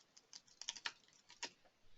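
Quiet tapping of keys on a computer keyboard as a short message is typed, a quick irregular run of soft clicks close by.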